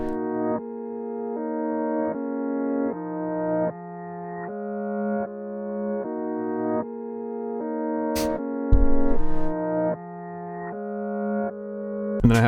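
A piano melody made in FL Studio plays reversed with added effects, each note swelling up and cutting off sharply in a steady ambient sequence, with a brief noisy sweep and low thump near the end.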